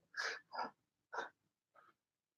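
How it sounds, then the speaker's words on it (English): A few quick, sharp nasal bursts in near silence, like stifled sneezes, the last one softer. "I had to sneeze."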